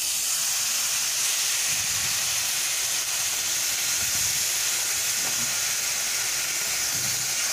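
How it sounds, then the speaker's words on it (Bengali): Water poured into a hot pan of cooking grated raw papaya hisses and steams with a steady, broad sizzle that holds at an even level from start to finish, close by and with no voices. "অল্প পরিমাণ জল দেব।"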